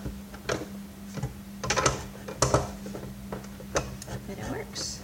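A socket adapter turns inside a vacuum cleaner being taken apart, giving irregular clicks and ticks of metal on plastic with a steady hum underneath.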